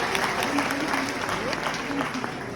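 A church congregation applauds together in a loud, steady wash of clapping that fills the whole moment, with a voice speaking faintly underneath.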